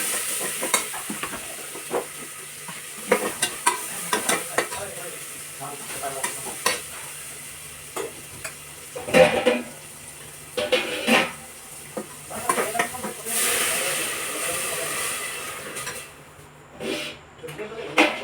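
Vegetables frying in a home kitchen pan, with potatoes added on top. A loud sizzle runs under frequent scraping and clattering of a spoon against the pan, and voices speak now and then.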